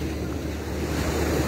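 Ocean surf rolls steadily onto Lumley Beach in Freetown, Sierra Leone, a continuous broad wash of breaking waves with some wind noise on the microphone and no voices.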